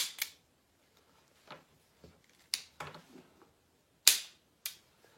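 A toy gun fired by working its trigger back gives a series of sharp, snappy clicks and pops, spaced irregularly, close and alone against near silence.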